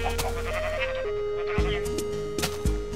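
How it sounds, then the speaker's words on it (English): Sheep bleat in a multiplayer survival video game, sounding over a steady tone of game music with players talking throughout. "I'm trying to kill these sheep"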